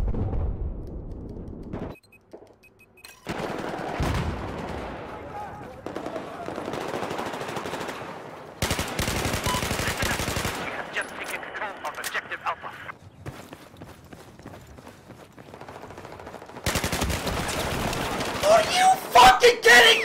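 RPK machine gun fire in Battlefield 4 multiplayer, rattling out in loud rapid bursts separated by pauses, with footsteps and other battle noise around it and a voice talking over parts of the action.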